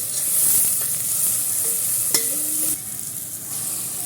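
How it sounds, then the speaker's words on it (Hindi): Black cardamom, star anise and green cardamom sizzle in hot oil for a vegetable pulao, a steady close hiss with a few light scraping and clinking stirs partway through. "बड़ी इलायची और बादियान का फूल ये मैं ऐड कर रही।"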